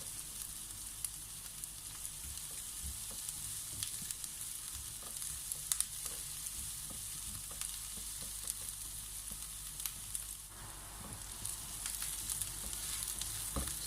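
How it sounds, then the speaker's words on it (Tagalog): Onion and garlic sauté in a pan with a continuous, close sizzle and occasional scrapes and clicks as they are stirred. No one talks. "gigisahin po natin ito hanggang sa ito ay mag-brown ng konti"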